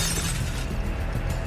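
Glass shatters in an animated short film, a loud, dense burst of breaking debris that fills the whole short moment with no speech.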